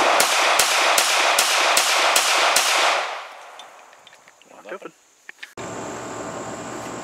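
A Walther Creed pistol fires seven rapid, evenly spaced, loud close shots at an outdoor range, followed by quieter clinks and handling noises and then a steady hum.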